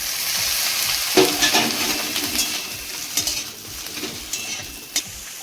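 Ridge gourd sizzles in hot oil after chopped onion has browned, while a utensil scrapes and stirs the pan, with a few sharp clinks against the metal.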